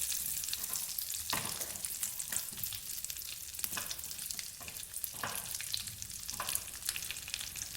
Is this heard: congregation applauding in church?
no